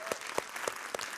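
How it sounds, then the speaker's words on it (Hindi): A studio audience on a televised Indian news debate show claps to welcome a guest, a retired Major General; only about four sparse, evenly spaced claps ring out, fairly close and without talk. "तालियों के साथ स्वागत है आपका।"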